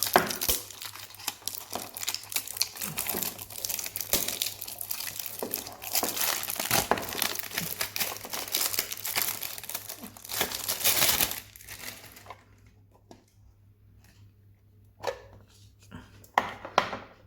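Pokemon TCG Burning Shadows tin and booster packs being opened, with loud crinkling and tearing of foil wrappers for about eleven seconds, then quieter handling with a few sharp rustles.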